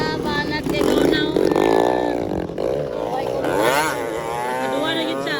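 Motorcycle engine at a racing heat event in Balingasag, droning loud and steady throughout with rising and falling revs, while people shout and talk over it.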